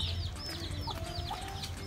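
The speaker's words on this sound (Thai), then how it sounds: "ไก่ลูกจิ๊บๆน้อยมาแล้ว" Small chicks peep and cheep in quick, high chirps, several overlapping, over a low background hum.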